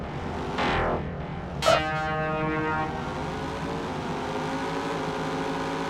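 Engine whine from a racing video game on a Phoenix Games All-Star Action compilation, a short burst then a rising revving tone with buzzy harmonics that settles into a sustained drone, moderately loud with no talking.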